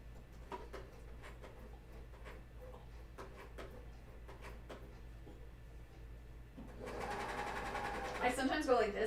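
Quiet room tone with soft ticks and taps, then near the end a serger sewing underwear fabric starts up and runs close and steadily for a couple of seconds.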